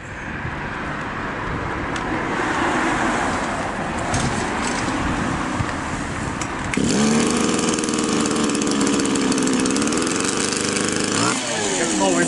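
A cold petrol grass trimmer is started after sitting overnight; a rough rumble is followed by the engine catching partway through and running loud and steady, with a buzzing idle near the mic.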